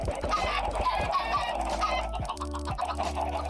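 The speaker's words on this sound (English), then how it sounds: "I feel bad about the chickens." Chickens on a Minecraft chicken farm cluck and squawk in a busy overlapping flock, close and continuous over a low rhythmic thumping.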